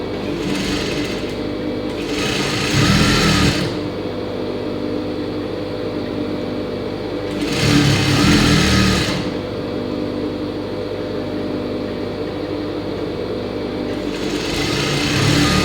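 A sewing machine stitches a tack on pants, its motor whirring in three loud bursts separated by a quieter steady hum, close up and with no talking.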